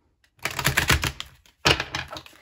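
Tarot cards are shuffled close by in two quick bursts of rapid riffling clicks separated by a short pause, with no talk over them.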